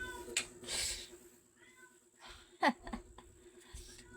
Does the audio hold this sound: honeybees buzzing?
no